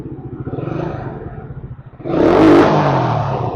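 A Suzuki Raider motorcycle with a new carburetor and a cracked oil cooler shield idles with a rough, lumpy throb, then revs hard into a loud, sustained roar close by.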